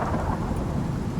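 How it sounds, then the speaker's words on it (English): A thunderstorm in the survival video game Icarus rumbles with heavy thunder and steady rain, a loud dense wash of low roaring noise with no talking. "Not that I'm afraid of a storm. Or getting killed by lightning."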